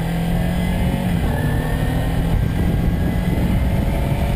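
Kawasaki Ninja 300 motorcycle on a test ride, its engine giving a loud, steady drone with a low rumble and a faint whine, held evenly throughout without revving up.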